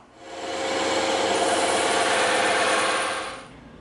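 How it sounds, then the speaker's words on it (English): A bandsaw slices through EVA foam in one steady, continuous cut of about three seconds, a dense raspy whir that swells in, holds level and fades out, with no talking. "Now we can go ahead and cut this outside shape out"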